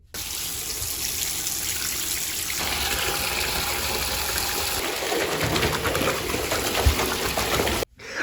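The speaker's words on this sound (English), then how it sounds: "so we're getting some bubbles" A half piece of cookie-shaped bath bubble bar fizzing in a filling tub, with steady running tap water gushing throughout, loud and continuous, ending abruptly.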